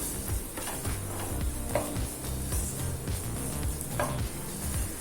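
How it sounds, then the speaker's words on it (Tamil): Ground spice powder sautéing with onions in a pan for a green gram kulambu, a steady close sizzle and crackle with intermittent stirring scrapes throughout, no voices. "பொடியும் சேர்த்துட்டு 1 நிமிஷம் வரைக்கும் நல்லா வதக்கிக்கலாம்."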